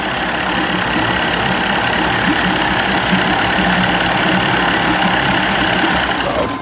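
A 1990s 30 hp Evinrude outboard motor idles steadily and loudly up close, a constant dense engine drone that holds without pauses throughout.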